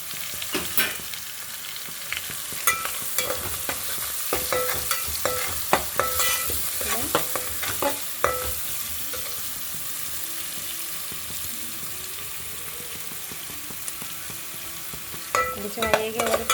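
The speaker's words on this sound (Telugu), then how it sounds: "కొంచెం వేగే వరకు ఫ్రై చేద్దామండి" Red chili paste and lentils frying in a pan for Andhra-style tamarind rice, with steady soft sizzling and scattered scraping stir clicks throughout, close and fairly quiet, no talking.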